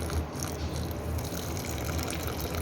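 Water poured into soaked tamarind in a grinder jar while preparing Chettinad vatha kuzhambu, a continuous close gushing and trickling of liquid that lasts the whole moment without a break.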